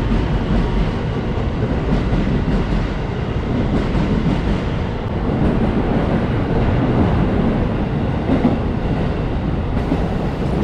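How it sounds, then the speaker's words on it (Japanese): A JR rapid train at Osaka Station rumbles steadily as it pulls away and gathers speed, loud and continuous with faint rhythmic clatter of wheels. "さあ快速電車行ってしまいました"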